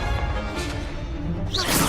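Expelliarmus spell effect in the Hogwarts Legacy video game, a loud magical whoosh and crackling burst building toward the end over a dense game soundscape, with no talking.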